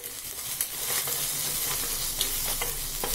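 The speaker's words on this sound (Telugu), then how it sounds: "1/2 స్పూన్ గరం మసాలా పొడి వేసి బాగా మిక్స్ చేసుకోవాలి" Spice powders, coriander, turmeric and garam masala, are stirred into a potato and chickpea curry in a hot pan, a soft steady sizzle broken by scattered spoon scrapes and light taps, with no speech.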